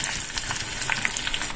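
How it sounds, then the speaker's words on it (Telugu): Curry leaves crackle and fry in hot oil with tempering spices for horse gram rasam, a steady close sizzle broken by small pops and stirring scrapes, with no talk. "ఇప్పుడు కొద్దిగా కరివేపాకు కూడా వేసి బాగా కలుపుకుందాం"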